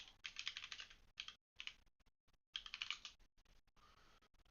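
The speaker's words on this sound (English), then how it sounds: "I'm just typing in." Fast typing on a computer keyboard while coding, close and clear clattering bursts broken by brief silent pauses, with no speech.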